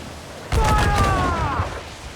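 Ship cannons fire in Assassin's Creed IV Black Flag: a sudden heavy burst of booming reports erupts and rolls on for over a second, with a shouted voice over it, then fades into ambient rumble.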